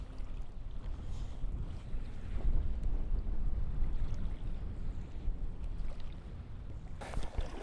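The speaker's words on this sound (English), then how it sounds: "God, it's cold. That wind is biting." Strong sea wind buffets the microphone on a kayak off Whitley Bay on an early-March cod fishing trip, with a steady roar of gusts and water noise throughout and a sharper burst near the end; no one speaks.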